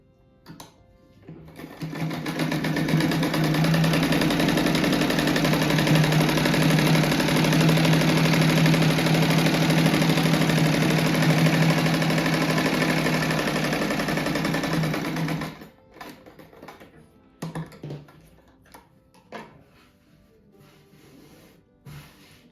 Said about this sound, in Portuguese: Agora eu vou costurar tudo de 2 em 2, assim, orelha com orelha